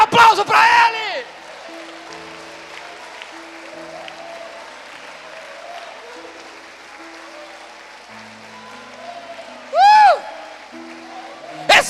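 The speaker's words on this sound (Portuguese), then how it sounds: "Dá um aplauso para Ele." A church congregation breaks into loud applause, once at the start and again near the end, with a sustained musical tone carrying through the quieter middle.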